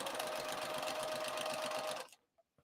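A sewing machine running a seam on a crossbody bag at stitch length 3, a steady, loud, close mechanical whir that stops abruptly near the end, followed by a couple of faint clicks.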